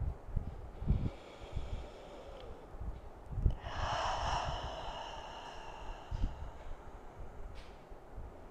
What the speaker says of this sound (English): Taking those deep breaths in, letting it all out.